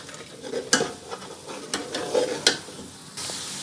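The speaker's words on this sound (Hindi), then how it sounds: "2 से 4 मिनट मसाले मैंने भून लिए हैं" Spice masala frying and being stirred in a pan, a steady sizzle broken by several sharp scrapes and clacks of the spoon against the metal, close and fairly loud with no talking.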